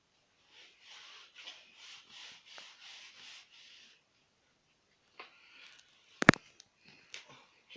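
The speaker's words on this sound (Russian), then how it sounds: "Мы начинаем грунтовать." A brush rubs primer onto a wall before a masonry stove and fireplace is built, giving a run of about eight even rhythmic strokes, then sparse scrapes and a sharp knock.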